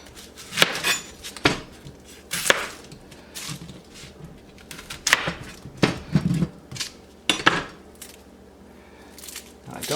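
A freshly sharpened knife cutting an onion on a board, giving sharp intermittent chops and taps spaced irregularly, with a person talking between cuts.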